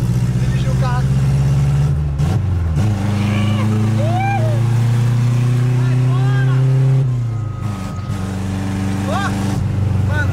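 A Chevrolet Chevette drives along, its engine humming steadily with shifts in pitch as it revs and changes gear, loud and close, with people talking over it inside the car.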